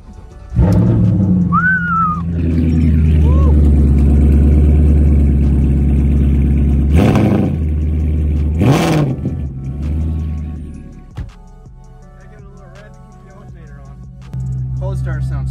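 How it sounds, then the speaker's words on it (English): Car engine with side exhaust pipes cold-starting, a loud low idle rumble that settles and revs briefly, close by, with a voice talking over parts of it. "Cold start sounds so crispy though on here. Those side pipes are."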